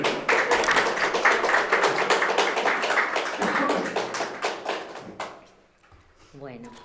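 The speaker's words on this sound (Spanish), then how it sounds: "¿Podemos aplaudir?" An audience at a talk bursts into dense, lively applause for about five seconds before it fades out and a voice begins speaking.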